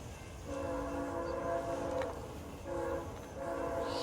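A P42 locomotive sounds its horn at Brockville, two long sustained blasts with a brief gap between them, heard at a moderate distance over open-air background noise.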